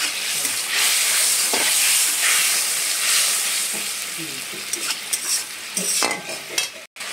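Ginger, cumin and coriander paste with a little water being stirred and fried in a pan, a steady close hissing sizzle with scraping stirring strokes that grow more broken and intermittent toward the end.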